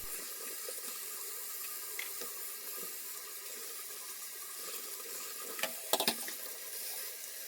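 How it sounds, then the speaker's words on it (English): Cold tap water runs steadily into a sink as spinach is rinsed, a constant close splashing hiss with a few sharper splashes and clinks near the end, with no talk. "I personally like to wash my spinach off in cold water"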